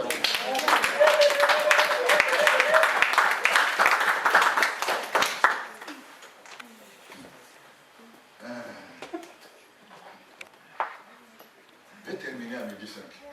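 A church congregation clapping and acclaiming, a burst of loud crowd applause with cheering voices for about five seconds, then dying away into scattered sounds and talk.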